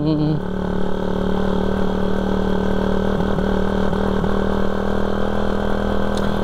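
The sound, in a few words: motorcycle engine idling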